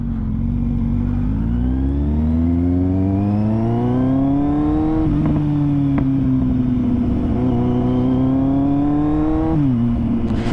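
A loud Kawasaki Z800 motorcycle engine close by revs up steadily, eases off, then climbs again in smooth rising and falling pitch, with no voices; the throttle is touchy and the engine is faulty.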